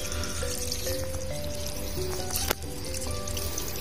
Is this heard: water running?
yes